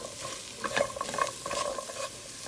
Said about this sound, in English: and I will saute them together